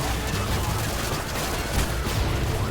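Automatic gunfire in the Call of Duty Modern Warfare 2 video game, a steady loud barrage of rapid shots filling the whole stretch, with voices talking over it.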